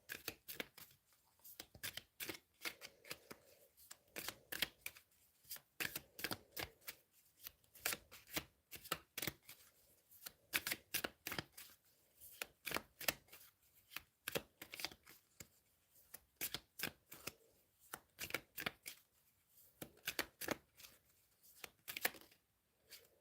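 Tarot cards are shuffled repeatedly up close, bursts of crisp riffling and slapping in quick irregular runs with short pauses between, fairly quiet overall.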